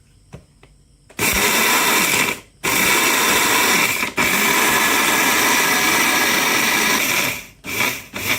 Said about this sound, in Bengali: দেন আমি ব্লেন্ড করব। আমি 2 বার মশলাগুলো ব্লেন্ড করব।